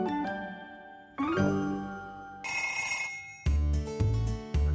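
A string of telephone bell rings in bursts, moving from an old mechanical bell to electronic ringtones, each loud, close and clear with short pauses between the sets, and no talking.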